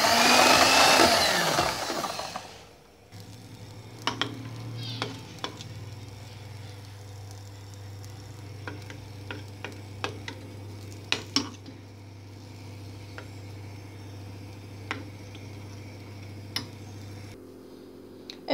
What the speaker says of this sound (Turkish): Bir de bu şekilde çırpıyorum.